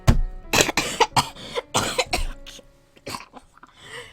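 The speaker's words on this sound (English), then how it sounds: "just like coughing from behind the corner." A series of harsh coughs in quick bursts, close and loud, with a few throat-clearing sounds trailing off at the end.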